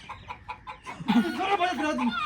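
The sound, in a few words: chicken clucking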